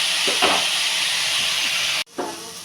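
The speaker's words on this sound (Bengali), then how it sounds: "এবার এটা আমি ঢাকা দিয়ে দিয়ে ভাজা করব" Potato and pointed gourd with green chillies frying in a covered pan give a steady, loud steamy hiss with a few soft knocks, briefly cutting out before returning.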